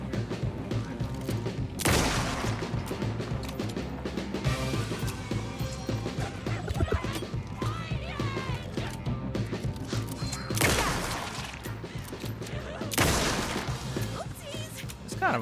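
Rapid bursts of gunfire in Alan Wake 2, with heavy impacts and crashes breaking through a dense, busy game soundscape while a voice talks over the action.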